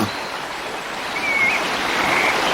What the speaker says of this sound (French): l'eau s'écoule le long du géant et vient continuer sa route entre les collines en formant une véritable rivière